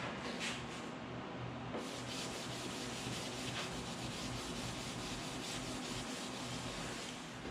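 Finish is rubbed by hand into a walnut and quarter-sawn white oak pizza peel, a soft, continuous scrubbing swish that keeps a steady, quiet level throughout.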